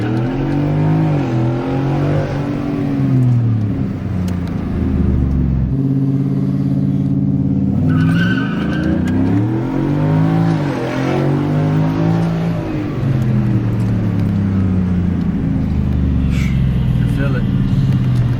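Ford Mustang 5.0 Coyote V8 fitted with a cold air intake launching from a light, engine revving loud and close with rising and falling harmonic sweeps over a steady rumble, with a voice talking over it.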